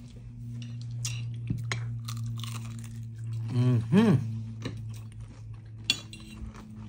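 Crisp crunching from close-up chewing of crispy fried okoy fritter mixes with faint clinks of utensils over a low background hum; a voice briefly rises mid-clip.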